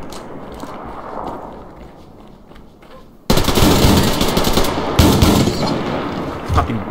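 Rapid automatic gunfire in the online shooter Survarium, loud and close, bursting in suddenly after a quieter stretch and hammering on in dense volleys.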